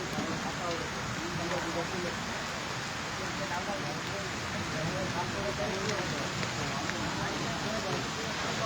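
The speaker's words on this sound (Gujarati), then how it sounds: "વરસાદ ચાલુ છે" Steady rain pours at night, a dense even hiss of drops hitting surfaces that stays close and constant throughout, with no breaks or distinct splashes.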